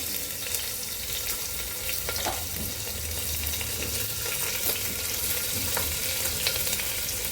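Chopped onion sizzles and fries steadily in a hot pan with cumin and bay leaves for masoor rice, a loud continuous crackle with occasional stirring scrapes and no voices.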